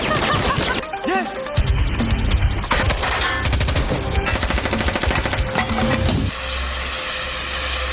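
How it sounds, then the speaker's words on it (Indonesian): Loud bursts of gunfire from a film shootout, dense and continuous with rapid shots over music and effects, then dropping to a quieter rumble near the end. "Baku tembak pun tak terhindarkan."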